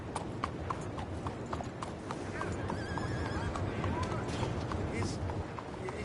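Horse hooves clip-clop at a steady walking pace in the video game Red Dead Redemption II, fairly close, over a busy bed of outdoor ambience with faint other sounds.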